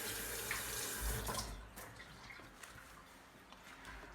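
A kitchen tap runs steadily while hands are washed during shrimp preparation, a soft continuous hiss of water with a few faint splashes and clinks, fairly quiet and without talk.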